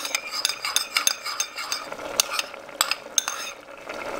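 A spoon stirs white soup, made without tomatoes, in a pot that is heating. It gives irregular clinking taps against the pot over a soft, low simmer, close and with no talk.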